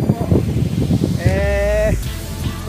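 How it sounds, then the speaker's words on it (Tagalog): Goats bleat at a charcoal-making site, one long wavering bleat standing out clearly after a stretch of scuffling and rustling work sounds, close and fairly loud. "Talagang gustong tumulong maghakot ng huli itong mga kambing natin."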